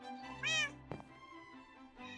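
Cat meowing in the Minecraft video game, one clear rising meow followed by a brief click and a second softer meow starting at the end, quiet and close.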